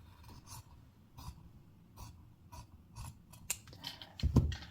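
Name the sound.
scissors snipping a notch into blouse fabric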